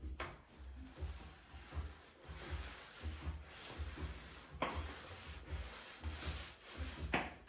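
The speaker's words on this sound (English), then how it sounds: "enjoy the sound of fresh paint going on the wall" A paintbrush spreading primer along wall corners while cutting in on a 120-year-old fisherman's house, heard alone as a steady soft rhythmic brushing and rubbing with repeated strokes.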